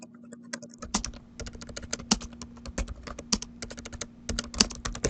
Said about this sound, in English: typing the text that's in the middle of page 18